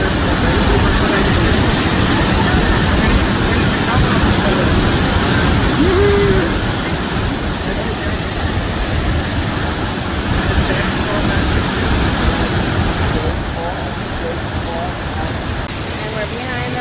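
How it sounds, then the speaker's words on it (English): A waterfall roaring from inside the cave behind it, a loud, steady, broadband rush of falling water that fills the space continuously. "And we're behind the waterfall. In the cave."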